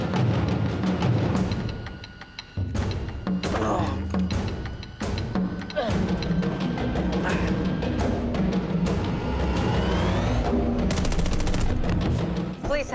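Gunfire bursts from a police chase scene in a game or film, sharp repeated shots over dense music and sound effects with a voice mixed in, loud and busy throughout.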